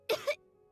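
A child's cough in Genshin Impact, two short, close, rasping coughs in quick succession followed by quiet.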